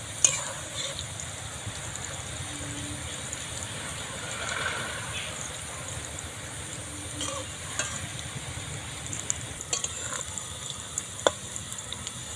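Pumpkin flower fritters frying in hot oil give a soft, steady sizzle with scattered small pops and faint stirring, heard alone for several seconds.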